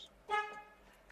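Alarm arming chirp from a Chevrolet Onix, a single short, close horn-like toot, loud against a quiet background, with no talking.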